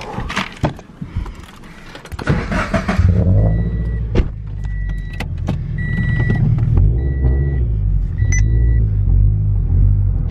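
A car engine rumbles low and loud in an echoing parking garage, idling steadily with a few clicks and a brief rev, no talking.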